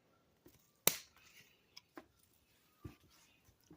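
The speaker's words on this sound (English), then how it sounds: "I'm going to cut it right underneath this node right here" A single crisp snip as garden shears cut through a leggy tomato plant stem just below a node, followed by a few faint handling rustles and small clicks, close and quiet with no talking.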